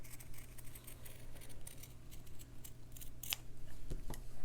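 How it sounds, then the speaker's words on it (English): Scissors cut a heart shape through fabric folded in half, giving close, crisp snips and slicing strokes against a soft, steady background hiss. "I just fold my fabric in half and then I can cut my heart."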